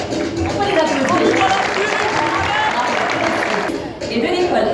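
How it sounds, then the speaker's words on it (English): An audience at a closing ceremony for the Solar Decathlon Africa 2019 competition applauds in a steady, dense wash of clapping that carries on for several seconds, loud and sustained throughout. "On peut les applaudir."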